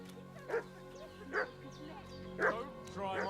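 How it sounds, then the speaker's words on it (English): A dog barks in the medieval video game Kingdom Come II, four short yaps spaced about a second apart, moderately close over a low game ambience hum. "What's that dog making such a fuss about?"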